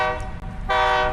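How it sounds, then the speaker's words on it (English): A train horn or whistle blows two loud tonal blasts, a short one and then a longer sustained one after a brief dip, with rich stacked harmonics over a low rumble. "train whistle."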